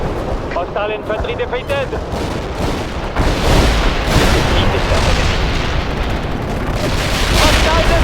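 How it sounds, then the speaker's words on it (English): Carpet bombing in World in Conflict sets off a continuous rumble of heavy explosions that swells louder midway. A radio voice speaks over the start. "Carpet bombs in requested area."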